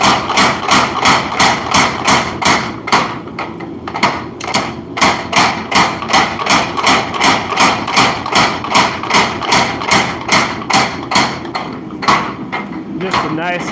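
A hammer strikes a knife blade at a forge in a fast, even rhythm of loud, ringing blows, with short pauses between bursts during a light finishing pass.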